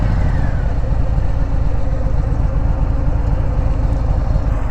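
A 2019 Harley-Davidson Sport Glide motorcycle runs steadily, its engine giving a loud, continuous low rumble throughout with no speech over it.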